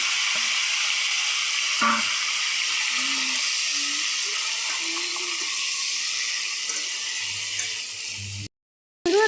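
Mustard seeds and flat beans frying in hot oil give a loud, steady, close hiss that runs unbroken for most of the stretch, briefly cutting out near the end.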